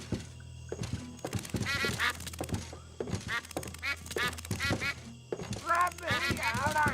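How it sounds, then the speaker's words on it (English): A fiendish-looking duck in the Escape From Monkey Island video game quacks in repeated nasal bursts, loud and close, interleaved with spoken dialogue and occasional thunks. "That is a particularly fiendish looking duck."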